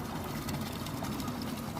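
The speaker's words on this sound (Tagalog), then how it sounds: "Konting tunog ng makina ng train." A train engine at Marienplatz in central Munich gives off a low, steady mechanical hum in the open square, faint and unbroken for the whole moment, with no talking.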